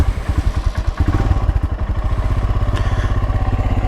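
A 2022 Royal Enfield Himalayan single-cylinder motorcycle with a Hitchcocks carburetor conversion idles on full choke at about 2,000 RPM. The engine gives a loud, close, steady rapid thumping with a slight mechanical clatter.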